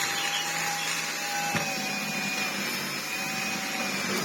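A Gtech AirRam Mk2 cordless vacuum cleaner runs with a steady, loud, close motor drone and airflow whine, newly repaired and with a dirty filter, continuing alone without talk.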